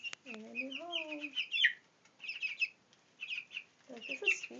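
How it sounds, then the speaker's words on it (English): Soft peeping and chirping from young Brahma chicks in a chicken coop, in short scattered bursts with brief pauses between, fairly close and moderately loud. "They look like happy chickens in their new home."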